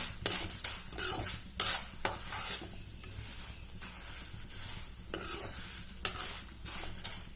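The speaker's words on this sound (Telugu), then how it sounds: "ఈ చిట్టి వడియాలు అనేవి ఇలా వేయించుకోవాలండి" Drumstick chitti vadiyalu fry in hot oil with a steady soft sizzle, punctuated by sharp metallic clinks and scrapes of a ladle stirring in the pan, heard close and without talk.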